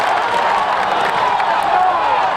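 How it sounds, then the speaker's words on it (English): A sold-out stadium crowd cheers at a high school football game, with fans on their feet at Tiger Stadium, Mercedes against Edcouch-Elsa. The roar is loud and continuous, with whoops and clapping blending into one dense wash. "Fans on their feet. Sold out crowd here at Tiger Stadium."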